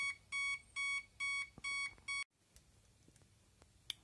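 A hoverboard battery's smart BMS sounds five quick bursts of bright electronic beeps after its button is pressed, then goes quiet except for a faint click near the end.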